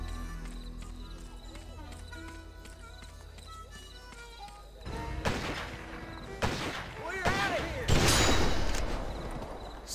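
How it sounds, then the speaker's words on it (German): Horse hooves charging in the western video game GUN, with pounding clip-clop impacts that swell loudly over the second half against a game music and ambience bed. "Das Pferd will mich umrennen."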